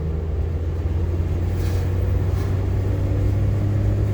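A car engine, treated with a Lucas fully synthetic oil stabilizer, accelerates onto a freeway, giving a steady, close, low rumble with constant road noise and no talking.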